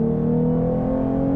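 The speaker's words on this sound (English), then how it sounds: "you can hear the engine's not quite as loud in this mode" A 2023 Lexus IS 350 F-Sport AWD with its V6 engine in normal mode hums at a steady, moderately loud drone with a smooth, even tone heard from the cabin.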